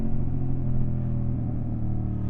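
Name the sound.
motorbike slowing with rear brake, trail braking into corner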